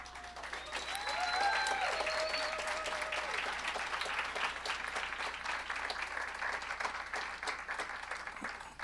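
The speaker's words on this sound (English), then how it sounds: "scattered applause." A class audience gives a modest round of applause, uneven clapping that swells briefly then continues at a moderate level, somewhat distant, with a few faint voices.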